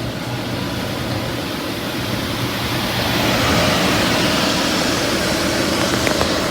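Fan power box running on a newly fitted replacement motor after the old one burnt out, giving a steady broadband whoosh of moving air and motor hum that swells slightly midway.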